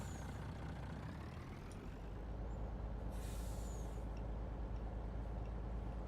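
A logging truck in Farming Simulator 19 labors up a steep hill, its heavy engine droning steadily and loud throughout, with a brief hissing burst partway through.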